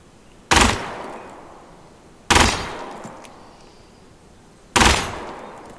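Three separate loud gunshot bursts from a PPS-41 submachine gun in the Gunsmith Simulator game, each a sharp close crack with a decaying tail, spaced about two seconds apart in otherwise quiet surroundings.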